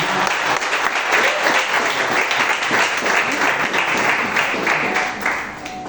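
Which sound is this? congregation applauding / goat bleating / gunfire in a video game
congregation applauding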